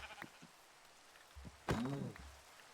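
A Minecraft sheep gives one clear bleat near the end, preceded by a few faint clicks and soft thuds of game activity, with no talking.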